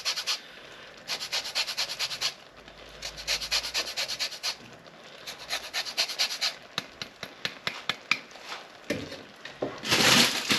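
A lemon is zested over a Greek-style orzo dish, with quick rasping strokes scraping in rhythmic bursts, pausing briefly between runs and ending on a louder, harsher scrape.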